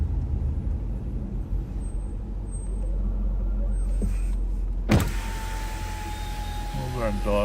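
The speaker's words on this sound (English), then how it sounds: "Those aren't dogs. Sounds like it, but that's actually my brakes." A sheriff's patrol car's brakes squeal in a long, thin, yelping tone that resembles barking dogs, following a sharp clunk partway through, over a low steady engine rumble inside the cruiser.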